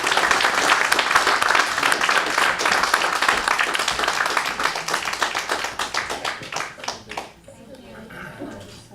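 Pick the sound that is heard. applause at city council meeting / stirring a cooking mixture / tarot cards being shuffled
applause at city council meeting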